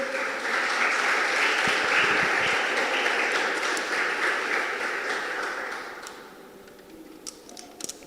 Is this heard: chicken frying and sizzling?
no